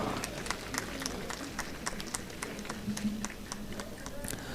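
Crowd applause for a children's school taekwondo team performing at historic Lal Chowk, Srinagar, during a CRPF event: steady outdoor clapping, moderately distant, with a faint murmur of voices beneath.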